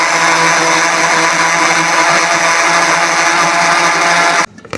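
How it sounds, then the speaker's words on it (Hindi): An electric blender grinding garlic chutney with water whirs loudly and continuously, then cuts off abruptly right at the end. "सारी चटनी मैंने ब्लेंडर में पीस ली है।"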